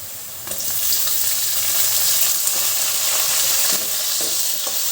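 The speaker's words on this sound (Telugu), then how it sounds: "ఆనియన్ బాగా ఫ్రై అయింది కాబట్టి ఇప్పుడు ఇందులోకి మనం టమాటోని యాడ్ చేసుకుందాం." Chopped tomato goes into a pan of well-fried onions for a Nellore fish curry, setting off a loud, close sizzle with bursts of hiss and stirring scrapes throughout.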